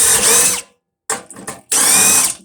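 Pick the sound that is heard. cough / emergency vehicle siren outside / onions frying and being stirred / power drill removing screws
power drill removing screws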